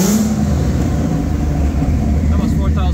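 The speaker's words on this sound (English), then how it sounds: "So this is how it sounds with the anti-lag off, because I do have it disabled." Turbocharged drift car engine with anti-lag disabled, revving once to about 4,000 RPM in a garage; a steady, loud, close engine drone with low rumble throughout, no crackle bursts.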